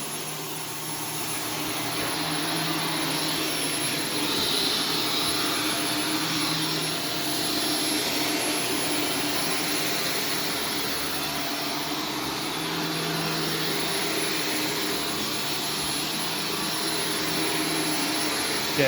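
A vacuum cleaner fitted with an Arm&Hammer Vacuum Booster drones steadily and loudly for the whole stretch, a strained, choking roar with a broad rushing hiss and low hum.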